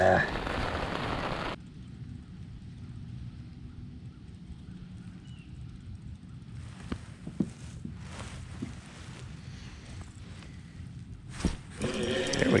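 Rain pattering steadily on an umbrella during outdoor crappie fishing, a continuous close hiss and patter with brief louder bursts, and a voice speaking over it near the start.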